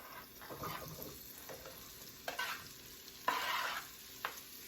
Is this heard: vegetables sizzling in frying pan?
yes